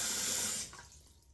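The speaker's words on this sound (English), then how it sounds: "I'm filling this sink up with screaming hot water" Hot tap water runs loudly into a sink, a close steady gush that tapers off as the tap is shut, leaving faint trickling.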